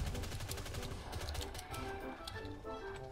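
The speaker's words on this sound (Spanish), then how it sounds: "Escucho disparos cerca, pero no veo nada." Rapid bursts of gunfire crackle close by amid a dense, busy plastic toy-soldier video game soundscape with heavy low rumble, shots repeating irregularly throughout.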